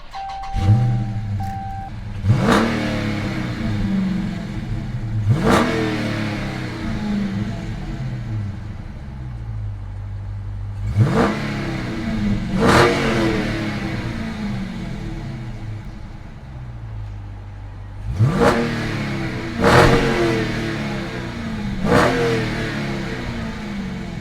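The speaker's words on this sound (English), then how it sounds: "I'm gonna let y'all hear this thing." A 2023 Dodge Challenger T/A 392 V8 revs hard several times, each sharp throttle blip rising and falling back to a rumbling idle, loud and close with no talking.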